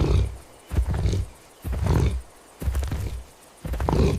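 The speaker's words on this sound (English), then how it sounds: "The prehistoric leopard, the silent assassin of the night." Deep, rumbling prehistoric leopard growls repeat in slow, rhythmic pulses, loud and close, with short pauses between each breathy snarl.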